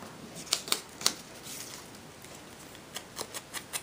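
Scissors snipping a paper card for a handmade rosette card, a few crisp cuts near the start and another run of quick snips toward the end, close and clear with no talking.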